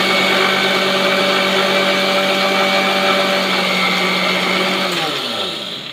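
A mixer grinder whirs loudly and continuously, coarsely grinding curry leaves into powder, its motor whine holding steady before winding down and fading in the last second.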